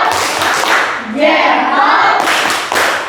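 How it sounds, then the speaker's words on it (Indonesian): Classroom of students giving applause and a rhythmic thumb-clap chant for a student group: bursts of clapping open and close the stretch, with children's voices chanting loudly together in the middle. "Dan tepuk tangan untuk kelompok 1. Tepuk jempol dulu."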